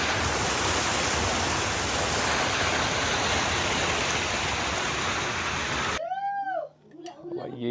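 A small mountain stream on a trek in Uttarakhand gives a dense, steady, loud rush of flowing water that fills most of the clip, then cuts off abruptly before a few brief, faint tonal sounds.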